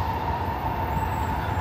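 A train passes in Jinbocho in suburban Tokyo, its motor giving a steady, fairly loud rumble with a constant whine running through it.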